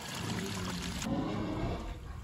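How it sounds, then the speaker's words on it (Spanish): Water pours steadily from a drum into a motorised sprayer pump on a pig farm, a soft continuous splashing and gurgle that shifts slightly in tone midway, fairly faint and close. "Ahorita ya vamos a llenar lo que es el bidón, vamos a vaciar en nuestra bomba"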